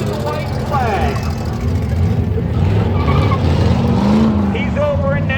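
Trucks race and crash in a pumpkin smash derby, engines droning and roaring steadily beneath an announcer's continuous commentary.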